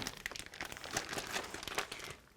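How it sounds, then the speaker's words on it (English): A plastic bag crinkles as a pork roast is dumped into it: quiet, close rustling and crackling in quick irregular bursts, fading at the end, with no talk. "So cut that bag open, and without even greasing, I'm dumping her into it."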